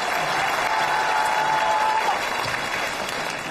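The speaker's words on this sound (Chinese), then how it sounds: "接下来再次拿出你们的掌声" Applause from a studio audience for contestants on a televised comedy competition stage, a steady wash of clapping with a faint sustained tone running through it.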